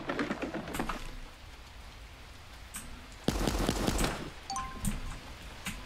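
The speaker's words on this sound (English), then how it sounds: "I thought the rain was gunfire for a second." Rain patters on a surface during a streamed shooting game, a fairly steady light pattering with sharper bursts of drops midway, heard alone without talk.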